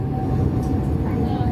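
Interior of a moving tram, with a steady low rumble and hum from the car running continuously throughout, and faint background voices of passengers.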